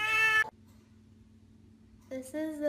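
A house cat meows loudly and close by, one meow at the start and another after a short near-silent pause, with faint background hum between them.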